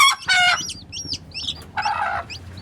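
A mother hen clucks close by with her chicks, giving short throaty clucks in two bursts while the chicks cheep in quick, high peeps between them.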